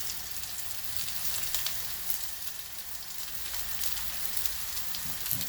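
Chopped onion goes into a very hot pan for a bhindi fry and sizzles steadily. The frying hiss is continuous and fairly faint, with no talking.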